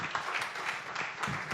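Audience applause at a symphony anniversary event with a panel: steady, moderately distant clapping from a crowd, fairly soft and continuous.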